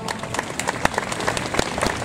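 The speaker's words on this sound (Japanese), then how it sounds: "どうぞ今一度大きな拍手をお送りく ださい" Sustained applause from a crowd after a high school brass band performance at a marching band festival at Huis Ten Bosch, Japan, dense clapping throughout with a few sharper claps standing out, steady and fairly loud.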